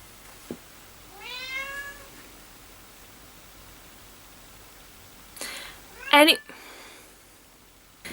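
Pet cat Jasper gives a drawn-out, rising and falling meow early on, fairly close, then a later burst of sharper cat cries around a brief noisy clatter, over a quiet indoor background.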